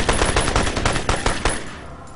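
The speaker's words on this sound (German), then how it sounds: "Ich schalte mal gerade den Schussmodus um. Ein paar mehr Einzelschüsse haben." Submachine gun fire in the video game Crysis, a loud string of evenly spaced shots fired in quick succession that stops abruptly and leaves a fading echo.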